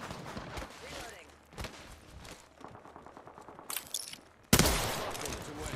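Rapid gunfire bursts from the Apex Legends weapon firing smart bullets, loud and close with sharp transients, the heaviest volley arriving near the end over a busy game-sound background.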